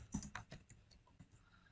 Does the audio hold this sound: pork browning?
no